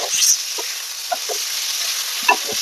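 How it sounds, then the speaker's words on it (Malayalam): Mutton fries in a pan with a steady, bright sizzle while a utensil scrapes and stirs it in a few soft, irregular strokes, close up and with no talking. "മട്ടണം ഇട്ടിട്ട് അങ്ങനെ ഇളക്കി അങ്ങ് ഇളക്കി അങ്ങ് കൊടുക്കണം അങ്ങനെ ഇളക്കി ഇളക്കി ഇളക്കി അവനങ്ങ് അങ്ങനെ അങ്ങ് ഫ്രൈ ആകുന്ന പോലെ"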